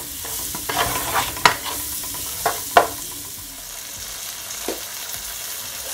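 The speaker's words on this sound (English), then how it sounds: "Just gonna allow you guys to saute for at least 1 minute" Sweet and sour fish mixture with black pepper sautés in a pan, giving a steady sizzle under a few sharp spatula scrapes and clinks in the first three seconds, then settling into quieter frying.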